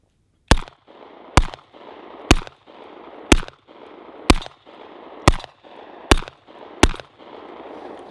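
Eight loud, evenly spaced revolver shots from a Magnum Research BFR chambered in .357, each sharp crack followed by a brief echoing tail, fired at a steady pace roughly one per second.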